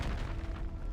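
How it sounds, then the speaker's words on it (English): A bomber explodes in the sky in the game Reverse: 1999, a faint low rumbling boom that rolls on for about a second with no talk over it. "The bomber detonates in the sky, taking the young pilot with it."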